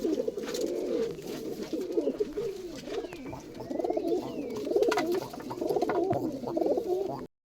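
Russian Giribaz pigeons coo close by in a steady, overlapping stream of low throaty calls that runs throughout and then cuts off abruptly.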